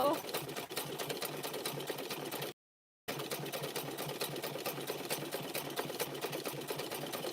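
An older sewing machine stitches fabric strips around rope for a handbag, giving a quiet, steady mechanical whir that stops for about half a second and then starts again. Talk is heard over it.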